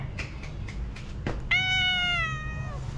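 A cat gives one clear, fairly close meow that slides downward and lasts about a second, after a few soft faint sounds, over a low hum.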